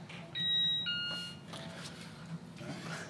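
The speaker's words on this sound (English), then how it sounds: "somebody set that bell to do that" A doorbell-style bell sound effect rings out loud and clear in a short two-tone chime, followed by fainter ringing tones and some background noise.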